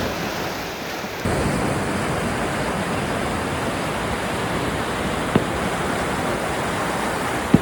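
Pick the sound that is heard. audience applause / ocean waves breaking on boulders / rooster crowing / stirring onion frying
ocean waves breaking on boulders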